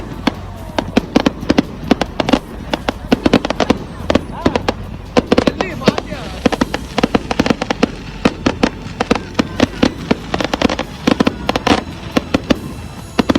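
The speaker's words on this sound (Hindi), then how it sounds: "जहां आसमान में आतिशबाजी" Fireworks burst over Sydney in a dense, continuous barrage of sharp cracks and pops, loud and irregular for the whole stretch, with crowd noise and voices mixed underneath.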